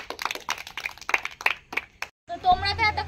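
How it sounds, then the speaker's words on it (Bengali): An audience at a Teacher's Day evening performance claps in a short burst of sharp, uneven hand claps, followed by a brief tonal sound and background noise. "হাততালি রে"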